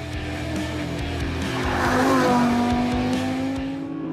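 An Audi R8 sports car with a 560 Nm engine and seven-speed dual-clutch gearbox drives past nearby, its engine note steady and loud with a rising pitch and some tire noise, and nobody talks.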